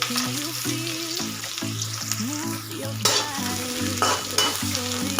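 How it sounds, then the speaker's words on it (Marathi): Two medium onions, sliced lengthwise, fry in oil in a kadhai with a constant loud sizzle, as a spatula stirs and scrapes through them in repeated strokes; a steady tonal hum runs underneath, and no one speaks. "मिडियम साईजचे उभे काप करून घेतलेले दोन कांदे घेतले तर ते आपल्याला त्या तेलामध्ये परतून घ्यायचे"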